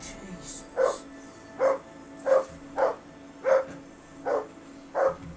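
A dog in the video game Kingdom Come: Deliverance barks repeatedly at a steady pace, seven short barks spaced under a second apart, moderately loud over a low background ambience.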